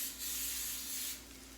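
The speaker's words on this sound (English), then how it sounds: "now I'm gonna spray the top" Coconut oil spray hissing from a can onto a cheese steak dish with sweet potato tots, two short close bursts of spray in a quiet kitchen.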